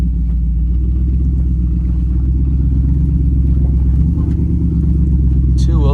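An OBS truck engine labors in two-wheel drive up a steep off-road rock and mud climb, a loud, steady low rumble that holds throughout with slight swells near the end.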